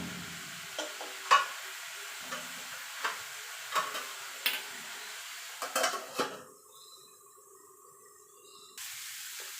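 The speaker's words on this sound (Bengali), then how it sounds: "এবার ঢাকা দিয়ে শাকটাকে আমি ভাজা ভাজা করে নেব" Amaranth greens with slit green chillies cook in a pan, with several metallic clinks and taps of utensils, then a muffled steady hiss once the lid goes on.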